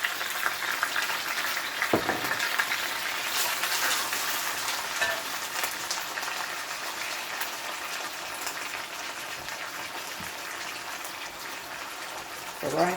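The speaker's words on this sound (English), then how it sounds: "right now I'm going to take my wooden spoon and stir just like that" Beef browning in a pot on a stovetop, stirred with a wooden spoon; a steady loud sizzle runs throughout, with occasional soft scrapes and knocks.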